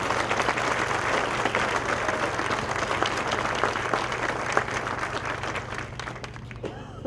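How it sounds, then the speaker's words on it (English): An audience at a first responders' memorial ceremony applauds with dense, sustained clapping that holds steady, then thins and fades out over the last second. "Let's give them all a round of applause,"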